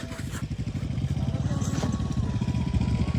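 Motorcycles chug and putter up close, dragging along an icy, snowy mountain road, their engines a steady pulsing rumble with faint voices underneath.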